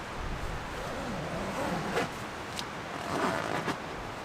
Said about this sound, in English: I can actually zip this up.